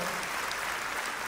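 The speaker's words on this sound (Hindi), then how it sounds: "अमृता फडणवीस जी के लिए एक बार जोरदार तालियां हो जाए" Crowd applause at an International Yoga Day celebration event, a brief, steady burst of many people clapping, fairly faint and continuous without speech.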